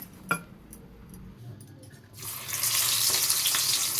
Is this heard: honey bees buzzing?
no